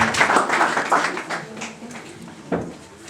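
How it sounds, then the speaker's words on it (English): Audience in a small hall at a Nigerian community career workshop in Ternopil, Ukraine, clapping to welcome a public speaker; a loose patter of claps that thins out, then one sharp clap stands out near the end. "Please clap for him. Clap for him."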